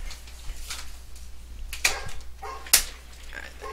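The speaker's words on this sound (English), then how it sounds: "now my dog's barking" A golden doodle barks indoors in a few short, sharp yips spread across a few seconds, moderately close, with no one talking over it.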